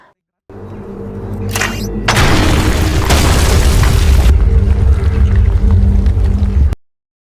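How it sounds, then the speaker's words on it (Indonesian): A very loud explosive blast from a destructive weapon fired at a target, preceded by a low rumble and a brief pop, then a roaring burst that swells and slowly decays before cutting off. "Mendengar suara ledakan yang sangat keras"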